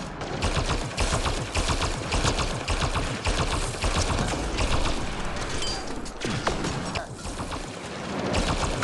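Dense, continuous gunfire in Mass Effect Andromeda rattles nonstop, rapid automatic bursts layered with scattered impacts and mechanical clatter, loud and close throughout.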